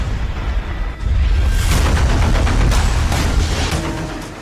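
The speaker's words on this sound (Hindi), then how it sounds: "ईरान की तरफ से दागी गई नई मिसाइलों की खेप को इजराइल ने एयर डिफेंस सिस्टम के जरिए इंटरसेप्ट किया" A continuous roar of distant booms and rumbling blasts as Israeli air defenses intercept Iranian missiles, loud and sustained, rising abruptly after a brief quieter start, with no voices.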